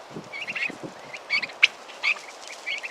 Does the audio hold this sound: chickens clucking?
yes